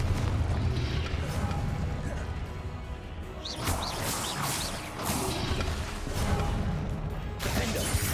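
Blasting spell impacts in Hogwarts Legacy fantasy video game combat, a series of crashing bursts and thuds mixed with whooshing effects, loud and busy over a constant low rumble.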